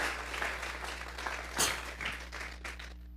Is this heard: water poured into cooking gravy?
no